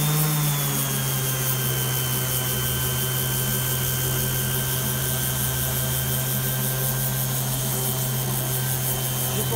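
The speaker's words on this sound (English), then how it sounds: "your orbital sander can clean up even painted brick without hurting the paint" Orbital sander running steadily over painted brick or limestone, a constant close motor drone with a faint rubbing grit texture, unbroken throughout with no talk.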